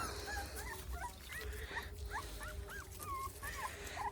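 A dog whimpers and whines in repeated high, wavering cries, fairly close, over a steady low rumble of background noise.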